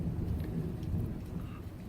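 A thunderstorm brings steady rain with a faint low rumble of distant thunder beneath it, a short, quiet and continuous stretch.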